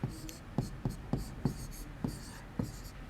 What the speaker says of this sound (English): So we will write here erosion.